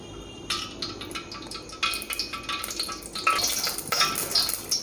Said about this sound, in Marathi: सगळ्यात आधी मी इथं तेल घालते आहे.